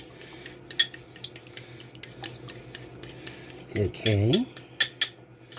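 Two eggs beaten in a bowl for a manicotti cheese filling, heard as fast clinking of a utensil against the dish with a brief scraping swirl, while a person speaks a word nearby.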